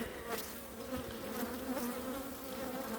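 Bees swarming inside a log hive, a dense, steady buzzing hum heard close up, with individual insects droning in and out over the continuous drone.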